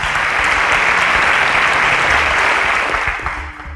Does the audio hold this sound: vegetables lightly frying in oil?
no